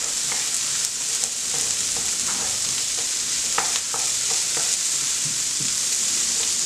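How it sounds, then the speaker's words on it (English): Onions and carrots for shepherd's pie fry in a pan, giving a constant bright sizzle close by, with scattered clicks and scrapes of stirring throughout and no talking. "So we're going to cook these down so the onions are pretty translucent."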